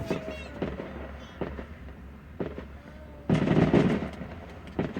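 Fireworks cakes going off at a Wayne County Fairgrounds display: a rapid series of sharp cracks and booms, with a louder, denser burst late on, heard from a distance under faint crowd voices.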